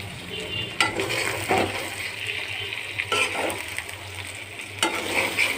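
Fish frying in a pan gives a steady close sizzle, broken by a few sharp scrapes and knocks as it is stirred, with no talk.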